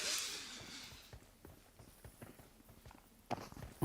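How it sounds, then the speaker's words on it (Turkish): Soft footsteps of people shuffling around a room behind the scenes, scattered faint steps with a brief hiss at the start and a couple of louder knocks near the end. "Ayak sesiniz geliyor."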